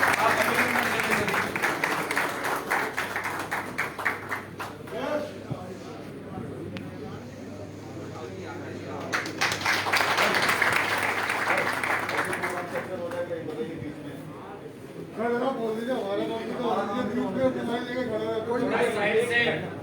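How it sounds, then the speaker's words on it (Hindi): A crowd at a Valmiki Jayanti gathering claps enthusiastically in several long bursts, swelling and fading, with someone speaking over the applause at times. "एक बार जोरदार ताली बजाकर आप अभिनंदन करें"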